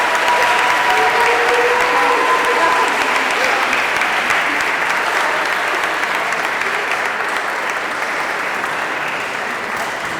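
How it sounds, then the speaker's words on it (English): Loud, sustained applause from a crowd at a school senior awards ceremony, steady clapping that carries on for about ten seconds and tapers off only slightly. "A big applause, please,"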